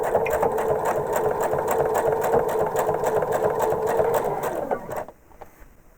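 A sewing machine runs steadily for about five seconds, stitching a facing strip onto the edge of a quilt top, its loud, even whir close up before it stops and leaves near silence.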